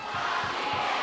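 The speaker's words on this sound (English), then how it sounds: "Great reaction from the crowd." Crowd at a women's world championship squash final reacting to a tied 10-all score, a loud, steady roar of cheering and clapping from a packed audience, filling the whole moment.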